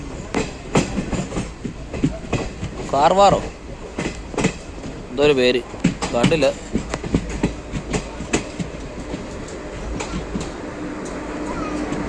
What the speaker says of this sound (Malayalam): ഗുഡ്സ് ട്രെയിനിൻ്റെ ക്രോസിങ്ങിന് വേണ്ടിയായി കൊണ്ടിടുന്നത് കണ്ടോ.